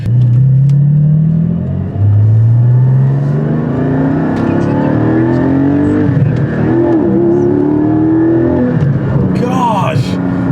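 Porsche Cayman GT4 engine revs hard toward its 8,000 RPM redline, loud rising harmonics climbing repeatedly through the gears with shifts between pulls, close and continuous under driving.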